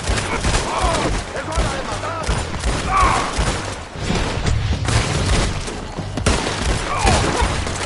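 Gunfire in the video game Red Dead Redemption 2: loud, dense fusillades of shots and booming blasts continue throughout, with voices shouting amid the shooting.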